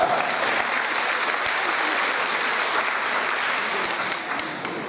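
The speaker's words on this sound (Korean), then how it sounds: "이럴 때 박수가 좀 나오는 거 아닌가요?" A crowd at a Korean traditional music performance in Atlanta for Korean adoptive families and second-generation Korean Americans claps vigorously. The applause is loud, close and continuous, easing slightly near the end.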